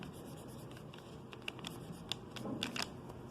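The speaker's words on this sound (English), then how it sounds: "We're going to take a Sharpie, and before we get started, we're going to write our name on the back." A Sharpie marker writing a name on thick cardboard, quiet close squeaky strokes in short bursts with brief pauses, alone.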